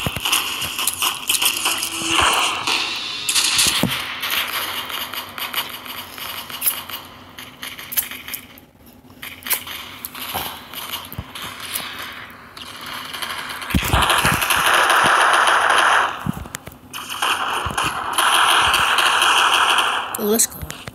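Rapid bursts of video game gunfire crackle over a busy in-game soundscape, with dense automatic rattling that swells loudest in the later half.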